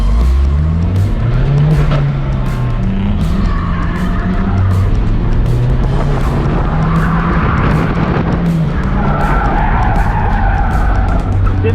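Car drifting on a skid pad, continuous loud tire squeal and skidding over a revving engine that rises and falls, sustained throughout with no voices.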